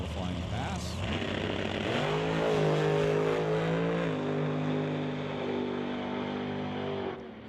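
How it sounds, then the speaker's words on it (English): A drag racing dragster rolls up and runs its qualifying pass, its loud engine rising in pitch with a steady revving drone that holds, then fades out near the end, with an announcer talking over it. "So Dan rolls forward now, breaking the pre-stage beam in his dragster. Set for his qualifying pass."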